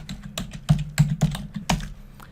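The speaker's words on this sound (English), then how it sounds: "in here I'm going to type in the word checklist." Keys clack on a computer keyboard during PowerPoint work, a short burst of about six distinct taps at close range with no talking.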